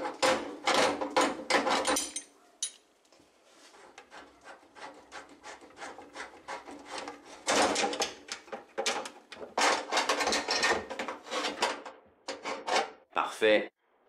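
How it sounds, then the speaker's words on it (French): Multigrip pliers working a gas hose fixing nut loose on a built-in cooktop give close, repeated scraping and rubbing grinds in two long busy stretches. A quieter gap with faint clicks falls between them. "Nous pouvons dévisser l'écrou de fixation du tuyau de gaz de cette manière."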